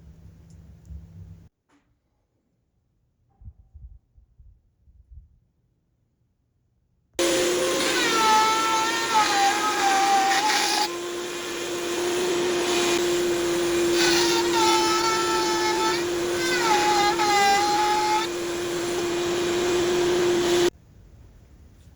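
A router mills a guitar pickguard template, whining loudly and steadily for about fourteen seconds with wavering pitch as it cuts. Brief quiet handling knocks come before it, and no one talks.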